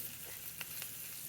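Chana dal, urad dal, cumin and mustard seeds sizzling in hot oil for a South Indian tempering, a soft steady frying hiss with a couple of faint pops.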